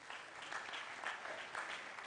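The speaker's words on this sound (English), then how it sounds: "A round of applause to Dr. Kaufman," An audience claps at a student mentorship session tied to a 2018 national science and maths quiz, with dense, steady applause filling the room and no voices.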